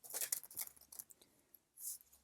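Tarot cards being shuffled by hand, a run of crisp riffling bursts over about a second, a pause, then one more brief shuffle, close and fairly quiet.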